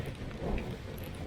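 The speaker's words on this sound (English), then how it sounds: "Oh, and that rain." Rain falls steadily in a wet forest, a broad hiss with some wind that stays constant for a brief moment.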